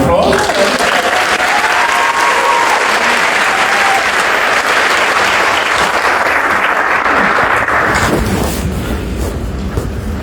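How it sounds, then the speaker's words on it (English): An audience applauds a man honored for over 40 years of National Guard service. The clapping is steady, dense and fairly loud for about eight seconds, then thins and fades, with voices mixed in. "Deserves a round of applause."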